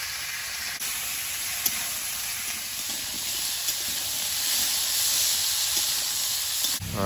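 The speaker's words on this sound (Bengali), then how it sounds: "ফুলকপি, বিন কড়াই, গাজর সব ভাজা হয়ে গেছে।" Cauliflower, carrot and peas fry in a pan with a constant soft sizzle and steamy hiss, a few faint clicks, quiet and even throughout.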